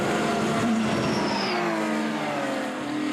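Porsche race cars circle a wet, slippery track at Magny-Cours, engines revving and whining loudly as they pass close by, pitch shifting with each gear change.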